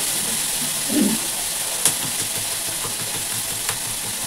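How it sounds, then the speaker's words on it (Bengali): Steady, even hiss of vegetable fritters frying in oil in a pan with a few faint clicks and pops, no voices. "তো চলো ফটাফট ভাজাটা ভেজে নিই"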